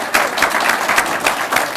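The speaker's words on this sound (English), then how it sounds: "Let's get a big round of applause for our panelists" Audience applause for panelists at an evening climate lecture series event, brisk, dense clapping from a room full of people with regular swells, close and fairly loud, no talking on top.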